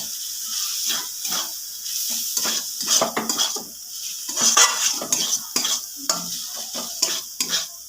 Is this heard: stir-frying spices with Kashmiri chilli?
yes